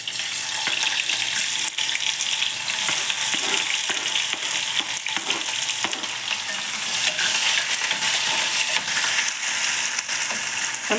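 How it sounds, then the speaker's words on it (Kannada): Chopped onions with curry leaves frying in oil for a potato palya, a dense, continuous sizzle lasting throughout, with faint spatula stirs ticking through it, close and fairly loud without speech. "ಸ್ವಲ್ಪ ಈರುಳ್ಳಿ ಫ್ರೈ ಆಗಬೇಕು."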